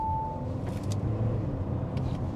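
A 2020 Audi A5 with 4x4 and 204 horsepower pulls away under throttle, a steady low engine rumble heard from inside the cabin, without speech.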